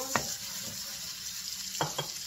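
Ampalaya con carne sautéing in a pan after onions go in, a low steady sizzle with two brief scraping stirs of a spatula, quiet and close, without talk.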